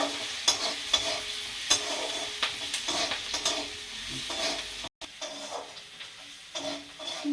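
Quiet, steady sizzling of food frying in a pan, with intermittent scraping taps as it is stirred.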